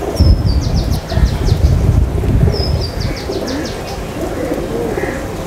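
Pigeons coo in a loft of prized racing birds, low rolling calls rising and falling close by, with brief high chirps and a rumbling, noisy background throughout.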